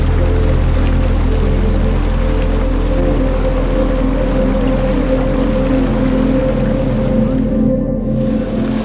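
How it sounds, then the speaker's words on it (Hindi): River flowing past a riverside eatery at Chota Kalam, where charpais sit in the water, heard as a loud, steady rush of moving water with a low constant hum underneath and no speech. "दरिया बह रहा है"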